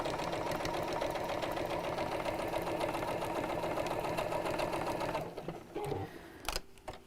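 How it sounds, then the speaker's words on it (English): A sewing machine stitches steadily around the edges of a fabric gift bag, a loud continuous mechanical whir that runs for about five seconds, then stops, followed by a few faint handling clicks. "So line up the edges and sew all the way around."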